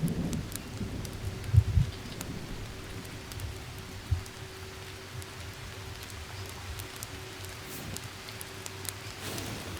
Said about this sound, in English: it's raining immediately.